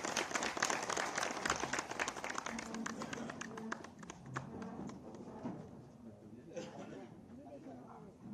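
Applause from a crowd at a swearing-in ceremony for newly elected dairy federation members in Dehradun, a dense burst of clapping that thins out, with someone speaking over it.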